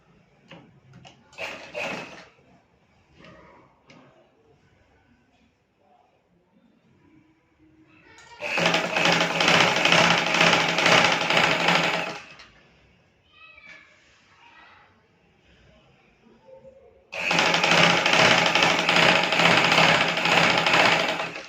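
A sewing machine stitches a ruffled frill onto a baby frock, running in two loud, steady bursts of about four seconds each, with quieter handling noises and pauses in between.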